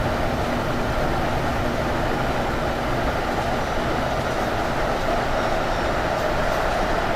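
A train running in the Train Sim World 6 video game at night gives a steady, unbroken rolling rumble with broad hiss, even and sustained throughout, with no talk.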